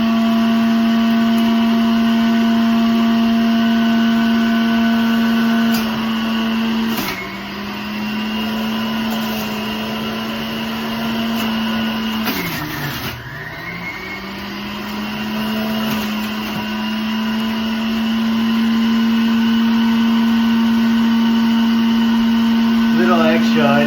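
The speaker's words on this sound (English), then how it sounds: "I'm learning how to properly operate a juicer as well." An electric juicer runs continuously while vegetables and leftover onion are fed through it, a loud steady motor whine with brief dips and strains as the load changes, and a voice speaks over it.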